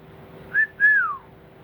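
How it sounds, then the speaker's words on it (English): A person whistles two short notes, the second sliding downward, clear and close over a faint background hum. "I can whistle."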